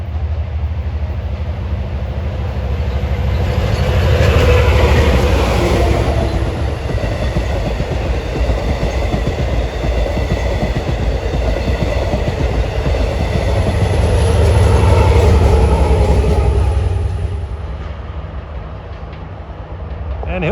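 A Long Island Rail Road train, number 8053 running from Ronkonkoma to New York, passes on the main line with a loud, close rumble and rhythmic wheel clatter that swells, holds, and swells again before easing off.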